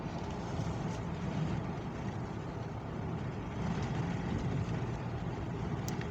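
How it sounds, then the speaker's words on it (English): A diesel train shuttling empty cars back and forth sends out a steady low engine rumble with a broad, even drone. It sits at a moderate distance and stays fairly constant with no clear breaks. "The train up ahead over there, just driving back and forth with empty cars, polluting both noise and diesel."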